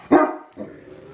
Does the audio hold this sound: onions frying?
no